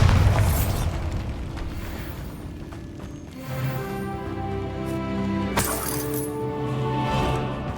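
A Bombarda blasting spell in the Hogwarts Legacy video game goes off as a loud opening explosion that decays into rumbling debris, then a second sharp burst follows over tonal game music.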